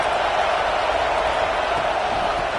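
A stadium crowd in the College Football 26 game roars as one dense, constant wall of cheering noise, loud and unbroken throughout.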